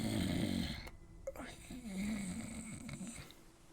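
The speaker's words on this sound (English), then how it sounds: "Every night you've heard him snoring because he works all day." A man snores loudly in his sleep, a rough rasping inhale followed by a quieter wavering breath, close to the listener, in a period drama bedroom scene.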